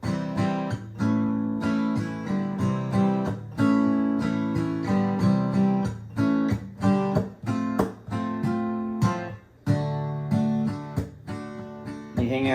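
Guitar strums the chords of a song slowly, moving through shapes that include an F and a D, a steady series of full, ringing strums with occasional brief pauses and no voice.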